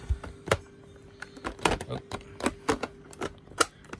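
Clear plastic parts of a Shark vacuum being handled and clipped into place, giving a series of sharp, close plastic clicks and taps spread unevenly, with a faint steady hum underneath.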